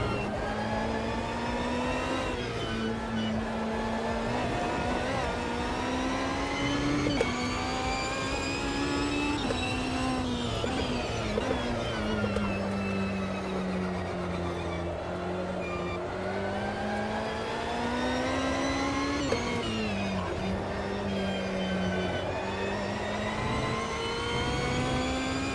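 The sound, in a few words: Ferrari race car engine in video game Automobilista 2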